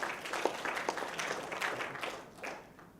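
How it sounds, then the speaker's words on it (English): Audience applause at an awards night for Dr. George Frederick, a dense steady patter of many hands clapping that fades slightly toward the end, heard alone without talk. "Big round of applause"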